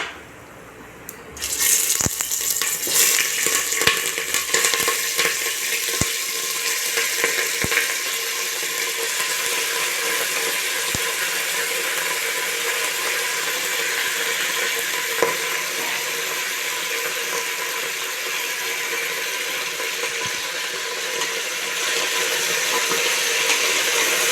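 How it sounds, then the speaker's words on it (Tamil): Whole spices including star anise fry in hot oil for a village-style Thanjavur country chicken gravy. After a brief quiet opening, a loud continuous sizzle takes over and holds steady, with occasional small clicks and pops. "பொரியட்டும் இதெல்லாம் பொரிஞ்சிருச்சு நம்ம எடுத்து வச்சுக்கிற சிக்கனை அதில் போட்டுடலாம்"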